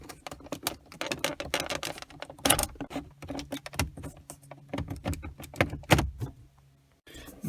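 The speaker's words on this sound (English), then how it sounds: "Now I have just used this plastic knife and the two hand to make it loose all around." A plastic knife pries the radio and button trim panel loose from a Toyota Aygo dashboard, producing irregular close clicks, snaps and scrapes of plastic with short pauses between them.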